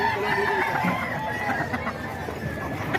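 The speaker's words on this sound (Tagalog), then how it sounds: "Dito tayo mga kaidol sa manok ni Kuya Hapon." Kuya Hapon's gamefowl rooster crowing and clucking close by, with other fowl calls around it, in a busy rural yard.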